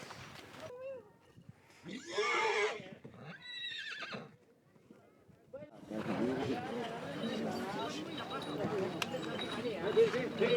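Horses whinny loudly twice near the start, then a busy stretch of hoof clops, crowd noise and chatter fills the rest of the clip, on a crowded horse trail at Mount Bromo, Java.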